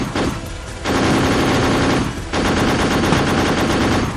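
Sustained bursts of automatic gunfire crackle loudly and densely, CRPF troops firing at Maoists in a forest encounter, with brief pauses between long volleys.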